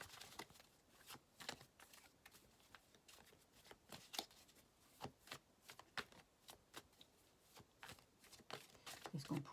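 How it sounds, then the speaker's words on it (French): Tarot cards riffled and reshuffled by hand in a series of quick, crisp bursts that come in uneven clusters, close and moderately quiet, with no talking. "Maintenant, hop, je rebrasse les cartes."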